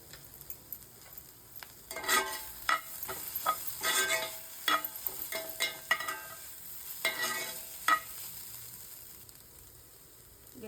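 Beetroot fry stirred in a pan in a home kitchen, with a quiet sizzle underneath and repeated scraping, clinking strokes of the spoon against the pan at an uneven rhythm.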